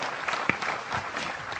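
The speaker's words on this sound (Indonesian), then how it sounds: "Cak Suko, tepuk tangan semua, beliau akan memulai ini." An audience at a talk and humor gathering in Surabaya applauds, a steady dense patter of many hands clapping together, moderately loud and continuous throughout.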